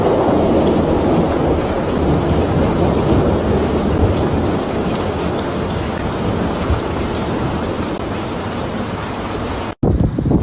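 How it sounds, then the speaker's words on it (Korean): Heavy rain and thunder during a storm in Xixia County, Nanyang, China: a dense, loud continuous roar of downpour with low rumbling and wind buffeting, steady until a sudden cut near the end. "난양시 시의현에서도 폭우와 번개가 발생했습니다."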